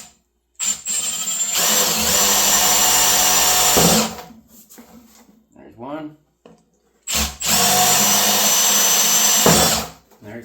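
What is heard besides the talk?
power drill with hole saw cutting holes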